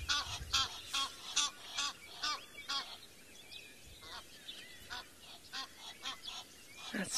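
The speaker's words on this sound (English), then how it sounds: "Oh, Egyptian geese flying over." Egyptian geese honking in bursts as they fly over on safari, loud rasping calls repeated quickly, pausing briefly mid-way before another run of honks starts up.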